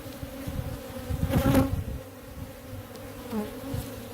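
Honey bees (Apis scutellata) buzz steadily inside an African hive, a dense continuous drone that swells louder for a moment midway before settling back to a constant hum.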